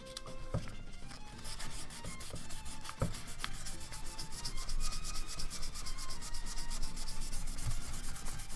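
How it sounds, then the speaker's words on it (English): Sandpaper rubbing steadily over a Nerf MA37 blaster part, a close, continuous scratchy rasp of repeated strokes that holds for the whole stretch with no talking. "Maybe we can just give it a little bit more of a sand."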